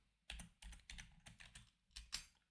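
Quiet, close keystrokes on a computer keyboard as a search is typed, about eight soft clicks in uneven bursts with brief pauses between.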